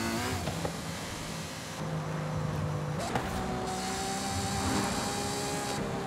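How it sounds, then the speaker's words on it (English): A turbocharged V12 Ferrari in Forza Horizon 5 spools up its turbo, with a thin whine rising over a steady interior engine drone. The sound stays fairly quiet and even throughout, with the whine shifting pitch at a few points. "now you just hear the turbo spooling up"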